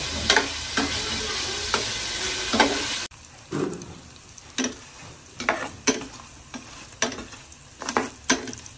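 Smoked belly ham frying in a pan with oil, a dense close sizzle for the first few seconds that then drops to a quieter crackle broken by repeated sharp clinks and scrapes of a utensil, no speech.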